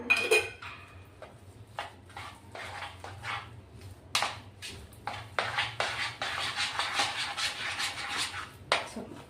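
A spoon clinks and scrapes against a dish while asafoetida and coriander powder are mixed in, giving scattered light taps and short rubbing scrapes, close and fairly quiet.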